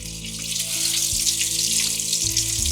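A salmon patty frying in hot oil, a steady broadband sizzle with a constant low hum beneath, continuous and fairly loud throughout.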